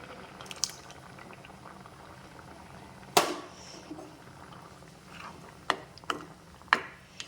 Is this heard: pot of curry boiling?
yes